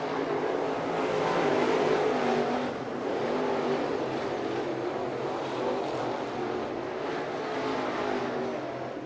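Crate late model race cars roar around the dirt oval at East Bay Raceway Park, a dense, continuous drone of engines with overlapping passes and gentle surges as the field circles.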